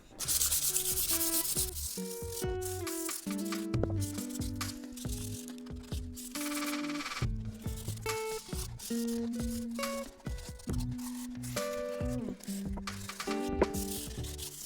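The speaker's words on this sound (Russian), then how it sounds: "Теперь хорошенько все шлифуем." Wall surface being sanded during decorative wall finishing in an old house, a close, continuous rasping scrub in uneven strokes that carries on for the whole stretch without talk.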